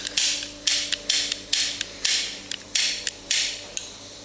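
A freshly lubricated rear window regulator on a VW Golf 5 runs up and down repeatedly, making a regular rhythm of close mechanical whirring strokes, each with a small clack at the end, about eight cycles with no talking.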